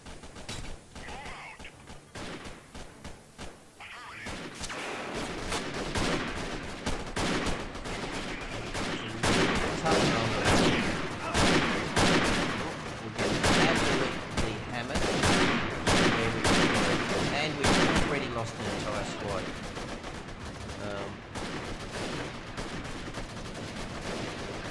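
Dense, sustained gunfire from a Freeman Guerrilla Warfare battle, with machine guns chattering amid overlapping shots and crashes, loud and continuous for most of the stretch after a quieter opening.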